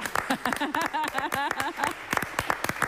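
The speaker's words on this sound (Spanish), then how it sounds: "La despedimos con aplauso." Audience clapping to send off a guest at Eduardo Sacheri's presentation of his book, scattered, moderately faint claps mixed in with people talking.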